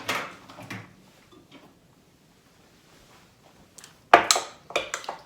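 A kitchen microwave gives short electronic beeps and clicks, then after a quiet stretch its door clunks open with a few sharp knocks, heard alone with no talking.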